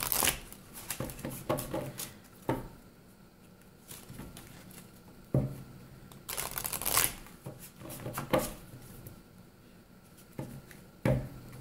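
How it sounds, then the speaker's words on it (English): Oracle cards from a goddess-themed deck are shuffled and drawn, giving soft papery riffles, slides and sharp flicks in irregular bursts, close and fairly quiet, with no speech. "let's go ahead and draw a Love Your Inner Goddess card."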